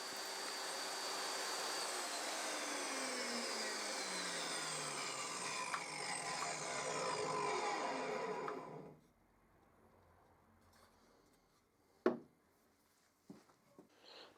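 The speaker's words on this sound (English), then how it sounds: "I make a number of passes on the table saw, adjusting the fence to move the cuts to the desired width" A table saw cuts a groove in a wooden stop block for a mitre saw station, a loud steady whining roar for about nine seconds that then spins down, followed by a few sharp knocks of wood being handled.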